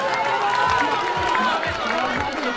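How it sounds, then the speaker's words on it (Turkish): Wedding guests clap and cheer for themselves in a dense, continuous burst of applause, with a sustained vocal tone and loud talk and shouting running through the crowd noise. "kendimizi şöyle kocaman bir alkışlayabilir miyiz?"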